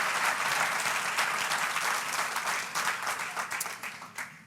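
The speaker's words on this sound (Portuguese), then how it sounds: "aplaudam o Senhor nesta noite com toda a força" Church congregation applauding, a dense sustained roar of clapping that thins slightly and becomes more uneven toward the end.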